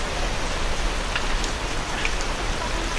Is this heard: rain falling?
yes